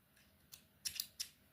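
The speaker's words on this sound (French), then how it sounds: "Donc là, je suis en train de couper mon fil." A small thread cutter snips cross-stitch thread close by, with one soft click followed by two sharp, crisp snips in quick succession against a quiet background.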